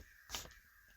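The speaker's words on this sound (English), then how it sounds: "Listen to all those birds. Do y'all hear that?" A single crow caw outdoors, heard faintly from indoors, one short harsh call over low background hum.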